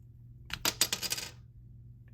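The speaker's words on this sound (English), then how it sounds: "pry this top metal piece off right here" A flathead screwdriver pries the top metal piece off a Mazda 3 key fob, giving a short cluster of quiet, close metallic clicks and scrapes that are bright and brief and followed by near silence.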